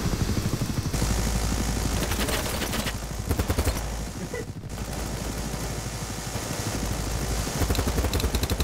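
Helicopter rotor and engine drone from a BattleBit Remastered match, steady and fairly loud for the whole stretch, with gunfire bursts and game effects crackling over it.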